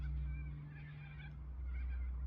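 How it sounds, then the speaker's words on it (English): Distant honking and gobbling calls from a flock of birds over a steady low rumble, faint and continuous. "those flocks of birds, you can just hear them over to the south here"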